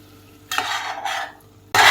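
Spoon scrapes and stirs vegetables with spices and sesame seeds in a pan, two bursts of scraping followed by a louder third, with a faint sizzle and no talk.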